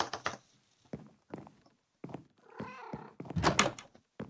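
A cat in the Minecraft video game meows several times in short, separate calls with brief silent gaps, mixed with a few soft thuds and steps.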